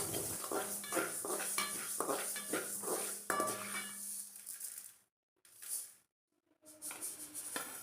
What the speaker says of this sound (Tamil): வெந்தயம் வறுக்கும்போது நல்லா கைவிடாமல் வறுத்துக்கணும்